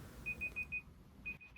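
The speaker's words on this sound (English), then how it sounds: "That's my alarm." A quiet digital alarm at a home desk beeps in a quick run of four short tones, pauses, then starts another run of beeps; faint and close, with no voices.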